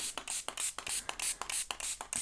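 Magical shaker ink spray bursts onto an art journal page: about nine short, sharp hissing puffs in an irregular rhythm, close and crisp, with brief pauses between pumps.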